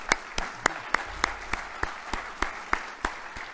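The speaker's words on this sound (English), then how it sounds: "I think they deserve a round of applause" Sparse applause from a small audience at an award event that honours heritage buildings, individual claps in a steady, fairly regular rhythm, close and moderately loud.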